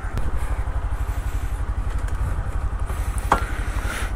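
A motorcycle in Kerala idles and revs before a ride with a passenger on the back, its engine putting out a steady close low thrum with a rapid regular pulse and a small clank near the end.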